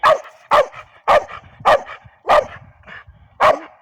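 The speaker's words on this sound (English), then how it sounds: "And he's barking at it." A dog barks sharply six times in a steady rhythm at a small animal stuck in a garden, close and loud, with quiet gaps between each bark.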